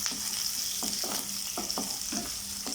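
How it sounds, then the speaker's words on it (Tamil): Green chillies, onion and curry leaves sizzle in hot oil in a pan while a spoon scrapes and stirs them in several distinct strokes, close and steady. "இதெல்லாம் சேர்த்து நல்லா மிக்ஸ் பண்ணிக்கோங்க."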